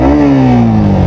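A Yamaha MT15 V2 motorcycle engine revs loudly up close, its tone rising quickly then easing into a steady, slightly falling drone over about a second.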